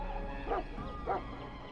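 A Mabari war hound in the Dragon Age: Origins video game gives two short barks about half a second apart, close and moderately loud over a steady low background hum.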